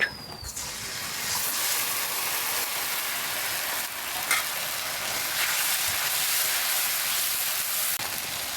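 Ground spices with chilli, onion, garlic, ginger paste and cumin paste tipped into onions fried red, for a chicken curry, setting off a loud, steady sizzle and hiss that fills the whole stretch with a few stirring scrapes.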